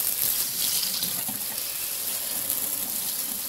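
Steady hiss of water spraying from a pull-down kitchen faucet, continuous and fairly loud, with no voices.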